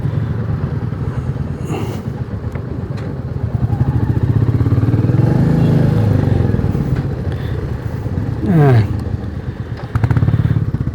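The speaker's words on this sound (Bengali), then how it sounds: "তো এইখানে আমরা বাইকগুলো পার্ক করলাম" Motorcycles on a group ride of over twenty bikers to Mayapur roll in and park, engines rumbling close and loud throughout, with one bike revving sharply near the end and voices faintly mixed in.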